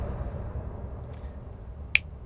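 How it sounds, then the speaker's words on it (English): A single sharp finger snap cracks out near the end, close and crisp over a low quiet room hum, with no talk. "Oh, that was a good finger snap."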